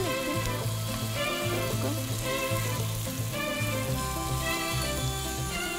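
Onions sizzle steadily in a hot pan for a spicy smoky-flavored ramen, a dense continuous crackle with stirring underneath and faint music-like tonal background throughout.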